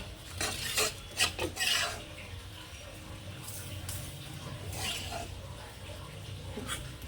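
Chicken being mixed by hand with a coloured marinade in a kitchen bowl, wet rubbing and squelching strokes that come in bursts, loudest early on and then steadier and softer.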